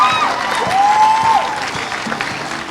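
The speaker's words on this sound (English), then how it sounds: "Just clap for him." An audience at a school speech and prize-giving day claps for a board member, a full steady round of applause with faint crowd noise and a brief whistle-like tone.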